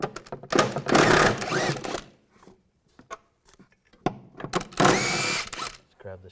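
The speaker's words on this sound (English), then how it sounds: "Now using a 16mm socket, take these two bolts out." A 16mm socket on a power tool whirs in two loud bursts as bolts come out of a 1998-2010 Volkswagen Beetle shock mount, with light ratcheting clicks in between and a short metallic clatter at the end.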